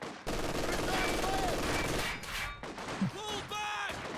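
A machine gun opens up in Company of Heroes 2, rattling in sustained rapid bursts at moderate distance amid game effects, with a short pause and a sharp impact before firing resumes.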